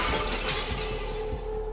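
A cracked glass window shatters under blows from a fire extinguisher in the SOMA video game, a loud, bright crash and breaking burst with debris settling after, with no speech.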